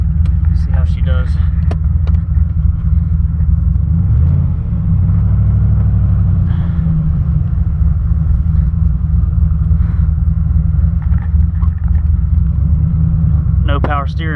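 A turbocharged LSX-swapped Mazda RX-7 drives with a steady, heavy low engine rumble after its transmission was reinstalled, heard from inside the car, with someone talking briefly near the start and end.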